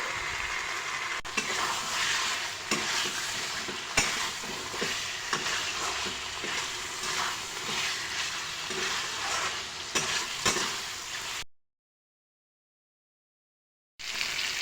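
Fried potatoes stirred in a pan for vegetarian aloor dom, a steady close sizzle with scraping stirring strokes throughout, then a short dead-silent gap near the end before the frying resumes.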